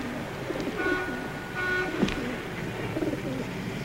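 Pigeons coo in low, soft repeated calls, interleaved with faint background noise and a brief higher tone, fairly close and moderately loud.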